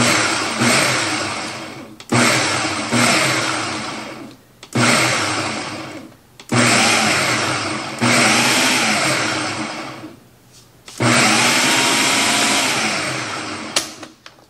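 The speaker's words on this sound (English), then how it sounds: "Then we're just going to pulse it until all the butter is cut in." A food processor pulses butter into pie crust dough, with six loud bursts of whirring motor, each a couple of seconds long and fading as it spins down, separated by short pauses.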